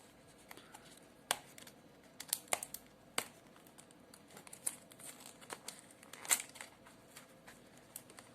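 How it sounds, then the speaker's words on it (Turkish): Crinkling and ripping of packing tape as the box of a Boya BY-LM10 lavalier microphone is pulled open, with irregular sharp tearing bursts and rustling at close range. "Bantı yırtılmadan açılmayacak."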